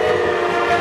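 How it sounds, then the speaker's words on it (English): A Norfolk Southern freight train passes close by in Duluth, Georgia, with a steady loud mechanical drone and horn-like tonal hum sustained through the whole moment. "there's already a train right before us."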